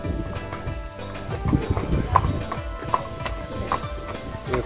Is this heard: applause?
no